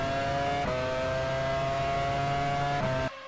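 A Formula 1 car engine in the F1 Challenge 99-02 racing game at the 1999 Canadian Grand Prix holds a high, steady whine with two quick gear-shift dips before it cuts off abruptly near the end.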